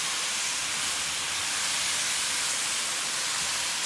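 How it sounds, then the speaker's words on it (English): Ground beef simmering and browning in a pan on medium-low heat for chili, a steady, dense sizzling hiss that stays even and close throughout with no talking. "I'm just going to cut this ground beef down on medium low and just let it simmer"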